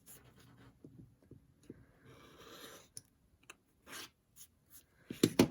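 A rotary or straight cutter trims a fabric quilt block against a ruler, giving soft scraping and a few crisp cuts and clicks, quiet and close with small pauses between strokes.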